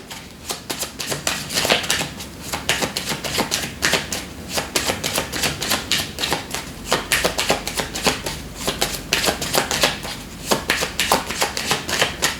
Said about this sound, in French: Je vais tirer une deuxième carte.